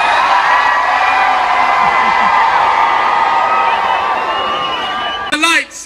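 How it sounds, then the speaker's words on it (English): Large outdoor crowd, children among them, cheering and whooping loudly at a Christmas light switch-on, a sustained roar of shouts and yells that breaks off near the end into a single amplified voice. "I want the best cheer that you've ever mustered"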